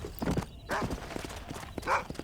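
A horse in the Red Dead Redemption video game clops its hooves and lets out a whinny, close and fairly loud, with a few uneven footfalls and a short neigh over faint background sound.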